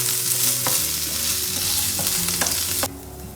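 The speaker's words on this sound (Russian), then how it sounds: "Отправляем к нему грибы. Обжариваем со всех сторон до румяности." Mushrooms and half an onion fry in a pan with a loud, close, continuous sizzle broken by a few crackles and pops, then the sound drops away abruptly.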